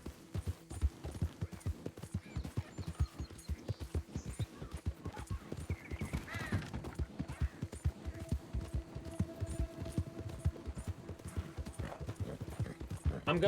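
Horse hooves clip-clop steadily in the open world of the video game Red Dead Redemption 2, a fast, even rhythm of close hoofbeats running throughout, with faint talk and a brief whinny-like sound.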